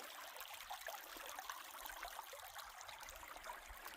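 Creek water flows over rocks and boulders along a backcountry trail, a soft, steady trickling and babbling heard at a distance, faint and continuous with no voices.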